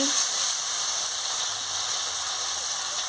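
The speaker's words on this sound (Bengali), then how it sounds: "পরিমাণ মতন হলুদের গুঁড়ো দিয়ে দিচ্ছি, দিয়ে ভালো করে কষাচ্ছি।" Turmeric and spice paste sizzling steadily in a pan for a paneer curry, a continuous bright frying hiss that stays even and close throughout.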